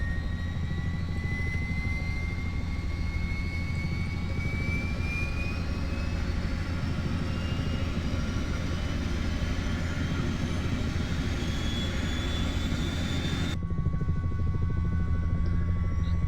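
Turbine whine of an H-60 helicopter in Flight Simulator 2020 as its second engine spools up, a steady roaring hum with rising tones climbing over about sixteen seconds, no talking.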